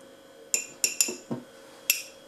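Several light metallic clinks of a spoon against a bowl, spaced irregularly, close and fairly quiet with near silence between.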